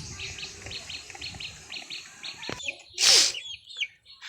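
Chicks in a pigeon and chicken coop give a rapid, regular series of high peeping chirps, followed by one louder, sharper call and a few scattered peeps close by.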